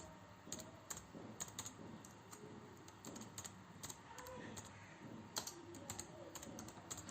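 Steady typing on a computer keyboard while an email message is written, with irregular clusters of soft key clicks and occasional sharper taps throughout, close and fairly quiet.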